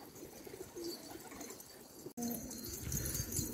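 Pigeons coo softly in low, rolling calls, close and fairly quiet, with a brief cut partway and no talking.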